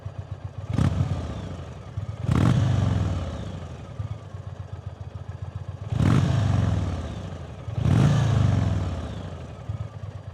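An Indian Thunderstroke 116 V-twin on stock exhaust idles with a deep, lumpy thump and is blipped four times, each rev swelling loud and sharp before falling back to the loping idle, close by.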